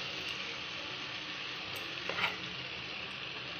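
Garam masala and bay leaf fry in refined oil with a bit of butter, making a continuous close sizzle with a brief clatter of stirring midway; no one speaks.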